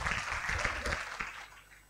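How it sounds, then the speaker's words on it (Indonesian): Brief audience applause for a speaker at an Indonesian institutional signing ceremony, a short burst of clapping from a seated crowd that fades out within two seconds. "Beri tepuk tangannya."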